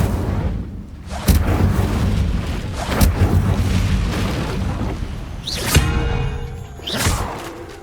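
Incendio fire spells are cast in the video game Hogwarts Legacy, a series of loud booming fiery blasts over a rumbling battle backdrop, with sharp whooshing impacts near the start and end.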